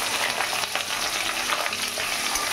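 Onions sizzle and fry in hot mustard oil with dried red chilli, bay leaf, cumin and garam masala, a steady crackling hiss at close range with occasional stirring.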